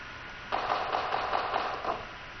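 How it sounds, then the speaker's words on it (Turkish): An automatic turret in Garry's Mod, Half-Life 2, fires a rapid burst of about eight evenly spaced shots over a steady hiss, then cuts off. "Otomatik taret bu herhalde."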